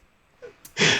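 A sharp, explosive sneeze bursts out near the end, preceded by a quick catch of breath.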